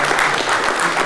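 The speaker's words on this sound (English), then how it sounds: "let's give George a big round of applause." An audience at a Kickstarter Academy funding talk applauds George with dense, continuous clapping from many hands, steady and fairly loud throughout.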